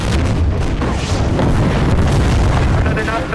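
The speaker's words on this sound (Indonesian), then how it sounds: "artileri milik Uni Soviet mulai menyerang tentara Jerman." Soviet artillery bombarding German troops in a war film about Panfilov's 28, a loud, continuous rumbling barrage of deep booms and blasts with no clear gaps.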